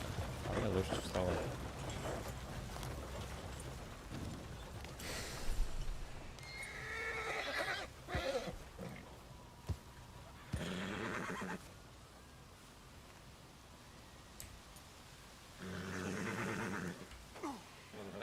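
Horse neighing and whinnying in Red Dead Redemption 2, several loud drawn-out whinnies with snorts and hoof clops between them, with someone talking intermittently over the game sound.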